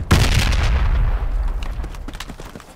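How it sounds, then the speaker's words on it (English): A frag grenade bursts on a crate in the military shooter game Project Reality, giving one loud close boom that rolls off into a fading rumble with faint crackles. "I'm gonna frag this crate."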